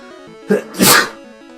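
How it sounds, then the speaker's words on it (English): A single person sneezes once, close and loud, with a short preceding intake of breath over faint background game music. "I am sneezing a lot today."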